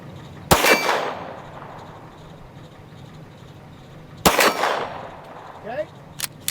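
Two sharp, loud pistol shots from a Glock, each followed by a bright ringing clang of steel targets, separated by a few seconds of quiet outdoor ambience, with a faint extra clink near the end.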